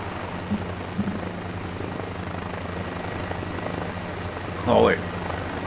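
Helicopter hovering in the Microsoft Flight Simulator 2024 video game, a steady low rotor and engine drone throughout with a brief louder burst near the end.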